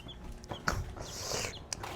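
A chicken clucking close by in a backyard, with a few short soft clucks over low background noise and no talking.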